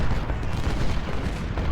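A cannon battery fires in a Civil War battle in Ultimate General: Civil War, a dense, continuous rumble of overlapping booms and gunfire that stays loud and steady throughout.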